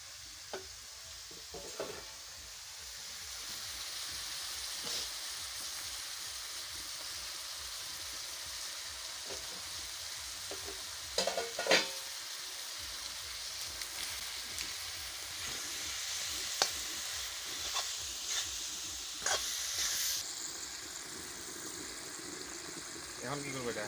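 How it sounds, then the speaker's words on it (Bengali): Cabbage sizzles steadily in a frying pan as fish spices are stirred in, with scraping stir strokes recurring throughout, a few sharper clinks, and voices talking intermittently over the cooking. "বাঁধাকপিটা প্রায় হয়ে গেছে, এখন মাছের মশলাগুলো দিয়ে দিব।"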